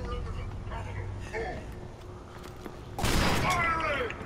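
Shotgun blasts boom in the Killzone Shadow Fall video game, with a loud burst near the middle set against game noise and players talking over it.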